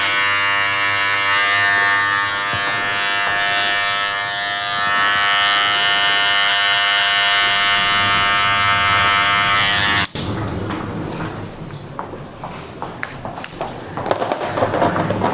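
Electric hair clipper buzzing steadily and loudly during a V-shaped fade haircut, continuous hum for most of the time, then shifting to a rougher, choppier cutting sound as it works through hair.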